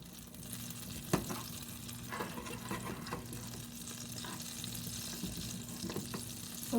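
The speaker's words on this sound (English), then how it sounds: "I'm going to cut just a little bit of butter to grease that pan and allow it to melt." Butter melts in a greased frying pan over low heat, a steady close sizzle and hiss running throughout, with a few scattered clinks and pops.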